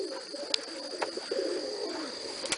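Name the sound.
pigeons cooing near the loft trap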